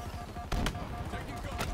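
A Warthog turret fires in Halo 2 multiplayer: a steady stream of rapid shots sits under busy game noise, with a few louder bursts standing out.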